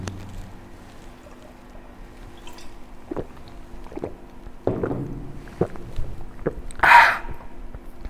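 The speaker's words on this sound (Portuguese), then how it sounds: "eu vou beber um pouco de água aqui" A person takes a drink of water during a Portuguese-language lecture, with a few soft, close gulps and wet mouth clicks spread over a quiet background and no talking.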